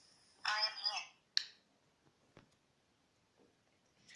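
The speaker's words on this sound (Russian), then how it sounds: "Вот сам телефон дает знать, где он находится." Phone alert set off by the phone-finder function of an M26 smart watch paired over Bluetooth: a short, loud ringing burst, a brief chirp after it, then faint clicks in near silence.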